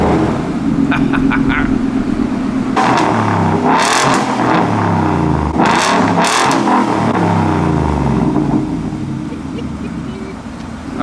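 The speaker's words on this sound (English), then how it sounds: "Oh, that rumble." A Ford F150 with a Borla ATAK exhaust and no muffler rumbles at idle, then revs repeatedly in loud rising and falling bursts, with the deep throaty exhaust close and dominant throughout.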